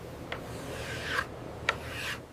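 Hand sanding with 320 grit sandpaper during a restoration of a 100-year-old bus, heard as two soft rubbing, rasping strokes, quiet and close with no talking.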